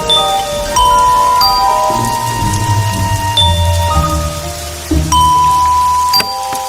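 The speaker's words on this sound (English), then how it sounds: "She needs to ring the melody on bells." A slow melody rung on bells, clear tones sounding one after another and ringing on, with a few sharper strikes between notes.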